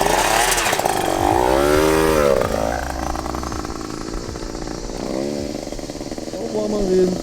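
A voice imitates a motorcycle taking a turn on hard rocky ground, with rising and falling engine-like revs that run continuously and loud, up close, throughout the stretch.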